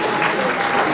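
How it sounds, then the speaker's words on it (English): Brief, dense burst of audience clapping at an awards ceremony, a continuous wash of applause from a crowd. "let's give one last round of applause"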